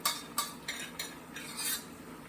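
Cooked quinoa and egg scraped out of a pan with a utensil, several sharp scraping strokes in an uneven rhythm, close and moderately quiet.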